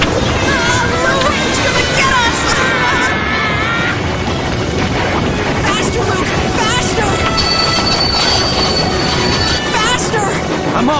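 A locomotive running at full throttle makes a loud, unbroken roar with high metallic wheel squeals and clattering throughout.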